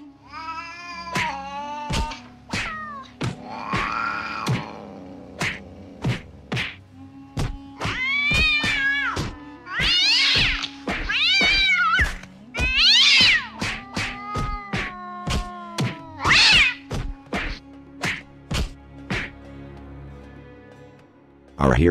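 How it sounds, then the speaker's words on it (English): Repeated loud cat meows and yowls alternate with sharp thwacks and hits, like a scuffle, in a rhythmic stream of cries and impacts. "Cat the Cat attacked."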